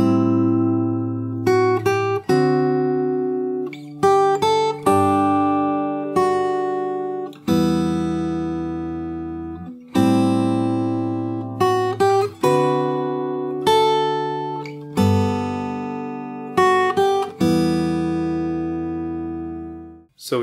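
Fingerstyle acoustic guitar playing the intro of a song, clear plucked chords and melody notes ringing out and decaying in a slow, steady phrase, close and alone.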